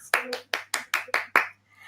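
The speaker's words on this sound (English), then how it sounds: "Please be clapping and standing up for the champions wherever you are." Applause for champions being announced at a ceremony, heard as six or seven sharp bursts of hand claps in an uneven rhythm, fairly close and clear, with a low steady hum underneath and no talk.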